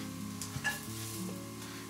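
Bread toasts in a frying pan with a steady, soft sizzle close by, faint and continuous, with a small clink or stir partway through.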